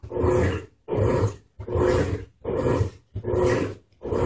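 An Electrolux LT08E 8 kg top-loading washing machine runs its turbo agitation cycle, giving five loud, evenly spaced churning surges with short gaps between them. No voices are present.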